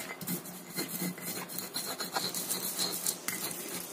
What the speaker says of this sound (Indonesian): Kita ulek sampai halus.